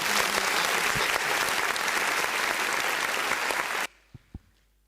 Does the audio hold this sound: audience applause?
yes